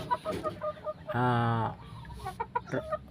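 A Negative Brown Sweater gamefowl rooster on a game farm lets out one clear crow in the middle, with scattered clucks and short calls before and after.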